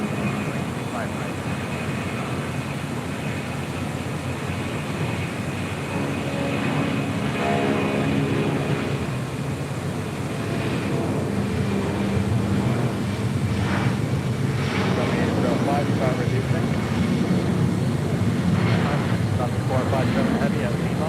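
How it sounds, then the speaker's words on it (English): A Lufthansa airliner taxis across runway 25 right at LAX, its broad engine rumble and whine steady and fairly loud at a distance, with wind noise on the microphone and occasional voices over it. "we got the Lufthansa Queen about to cross over 25 right here shortly"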